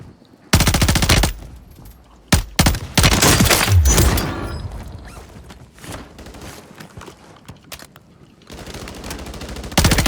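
Rapid bursts of automatic gunfire and scattered single shots in a video game shooter, loud and dense, fading to quieter pops before another burst at the end.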